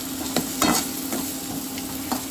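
Garlic cloves and grated coconut roasting in a pan for a Goan colocasia leaf gravy, a steady close sizzle with a few scraping stirs through the short stretch, no talking.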